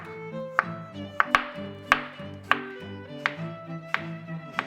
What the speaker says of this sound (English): Now I'm going to slice the cucumber into inch-long pieces.